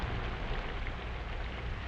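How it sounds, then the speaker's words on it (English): Rain falls on a garden as a steady, dense hiss of drops with no distinct individual impacts, moderately loud and continuous for the whole stretch, with no talk. "Rain, rain, it soaks into the soil."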